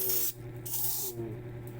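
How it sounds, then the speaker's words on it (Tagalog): Aerosol air freshener sprayed indoors before bed: two long hissing bursts, each lasting about a third of a second or more, close and moderately loud, with no speech. "mag-spray tayo ng air freshener para masarap ang ating tulog"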